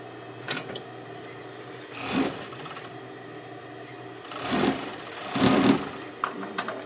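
Sewing machine stitching the fabric of a stuffed animal, several short bursts of fast rhythmic whirring and needle clatter with quiet pauses between them, close and clear, with no talk.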